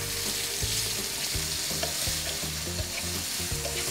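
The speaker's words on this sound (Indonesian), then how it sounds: "Kita masak sampai ayamnya bener-bener matang, sampai berubah warna." Chicken sizzles and crackles steadily in a hot pan with sweet soy sauce, with occasional scraping stirs, close up and continuous.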